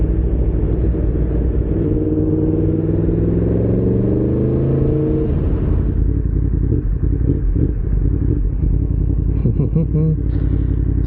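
A Yamaha MT-10SP motorcycle engine rumbles close and loud, rising in a sustained rev before settling back to a throaty idle with a few brief blips near the end.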